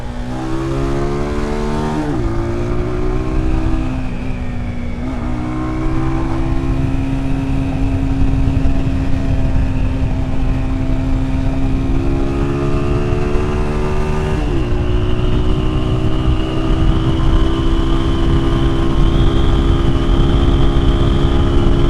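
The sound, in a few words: motorcycle riding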